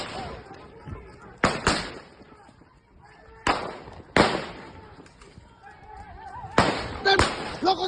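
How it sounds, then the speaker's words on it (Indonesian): Gunshots ring out during a clash between Brimob and police in Tual, Maluku, several sharp cracks spaced irregularly among shouting voices. "Tembak, jangan tembak atas. Tembak bawah."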